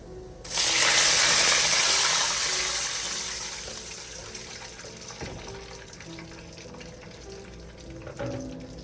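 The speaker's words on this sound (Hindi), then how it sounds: "मैं अब इसके अंदर पानी डालने लगी हूँ।" Water gushes steadily into a pot of rice for dal chawal, starting abruptly loud and gradually softening as it fills, with a brief clink of cookware toward the end.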